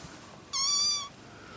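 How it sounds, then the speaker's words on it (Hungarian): A single kitten's meow rings out clearly for about half a second, high and bright, against a quiet background with no talking. "Meg azt nem értem, hogy minek nyávognak a cicáid."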